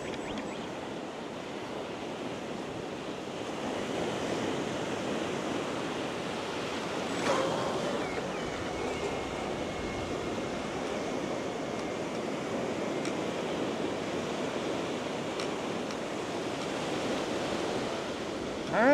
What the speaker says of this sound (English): I've got some nice size waves coming in, so the jumps are pretty good though.